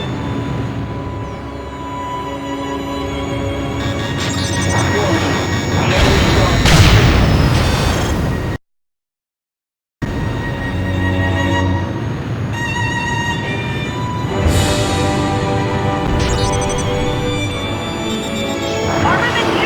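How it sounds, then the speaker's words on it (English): Missile explosions and crashes in the Ace Combat flight combat game, with repeated loud booms and rumbling impacts over a steady jet-engine drone, a brief silent gap midway, and game voice callouts mixed in. "Enemy missile approaching!"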